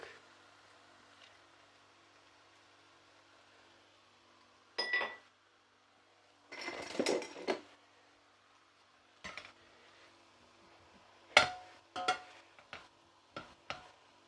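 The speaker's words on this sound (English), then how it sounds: "while it's still hot, we're going to do the mashed potato" Hot potatoes being mashed with butter and milk for a shepherd's pie, scattered irregular clinks and scraping knocks of a metal masher against a pot, quiet gaps between bursts, no talk.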